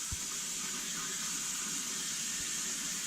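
Hot water gushes steadily from a tap in a continuous broad hiss, close by and unbroken, with no voices.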